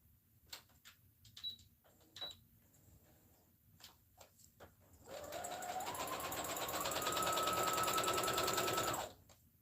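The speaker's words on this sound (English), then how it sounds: "Let me do the straight stitch right quick." A sewing machine runs a straight stitch on a satin hair bonnet: a few scattered clicks and short whirs first, then a sustained close mechanical whirring run lasting about four seconds before stopping.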